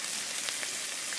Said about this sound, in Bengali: সাথে লঙ্কা, এটা এখন সুন্দর করে ভেজে নেব।